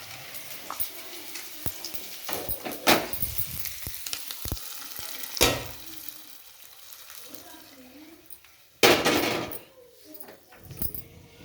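Tempering for spinach dal sizzles in a hot pan, with sharp bursts of crackling and clattering over a low background hiss. Loud spikes come and go as it is stirred.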